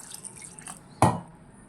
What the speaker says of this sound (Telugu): కొంచెం వాటర్ వేసేసుకుందాం